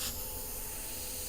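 An airbrush sprays a light coat of paint onto a sea horse, a steady soft hiss that is close and continuous throughout.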